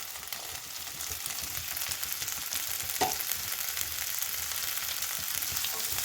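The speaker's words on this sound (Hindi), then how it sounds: "अब इन चीज़ों को अच्छे से हम मिक्स कर लेते हैं पहले।" Capsicum and boiled peas stir-fry in a hot pan for a Maggi masala noodle dish, giving a steady close sizzle with faint scraping of the stirring spoon, no voices.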